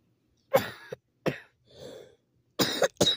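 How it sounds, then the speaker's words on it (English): A person coughs several times in harsh, separate bursts, close up, with a short raspy throat sound in between. "I got a really bad cough."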